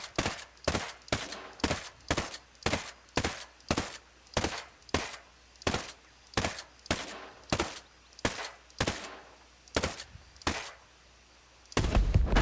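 A G36C assault rifle fired in Ghost Recon Breakpoint, a steady run of about twenty loud single shots, evenly spaced roughly half a second apart, each with a short decay, followed by a louder closing burst.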